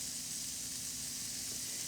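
Quesadilla with BBQ chicken and zucchini sizzling steadily on a griddle over high heat, a soft continuous frying hiss with no talking.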